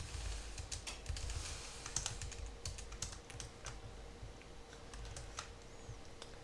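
Someone types on a computer keyboard while writing PHP code, pressing enter among the strokes. Soft, close clicks come in a steady, uneven stream over a faint background hum.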